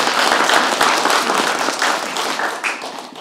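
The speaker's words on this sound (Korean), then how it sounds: "박수 부탁드립니다" Moviegoers at a film screening's guest talk applaud, a close, lively burst of many hands clapping with a few sharp individual claps standing out, gradually thinning near the end.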